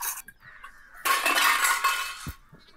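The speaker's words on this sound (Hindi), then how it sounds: "ये रहा छोटका बर्तन और ये रहा बड़का बर्तन" Metal cooking pots and utensils handled in a village home in Bihar, with a few light clinks followed by a louder, sustained clatter of metal scraping and knocking close by before it quickly falls quiet.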